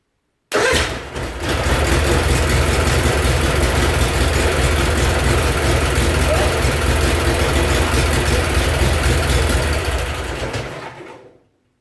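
A tractor engine with a newly fitted starter fires up and keeps running at a steady, loud idle for about ten seconds, close by and with no talking over it.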